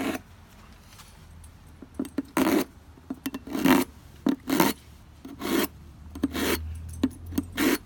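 A metal spatula is drawn across a sharpener in a series of short rasping strokes, each a bright, chattering scrape with brief pauses between, close and loud with no talk.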